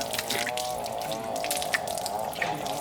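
Natural well water from the Miracle Well on Slave Island in Lagos, Nigeria, splashes and trickles steadily nearby, like water pouring into a basin, continuous and moderately loud with no voices.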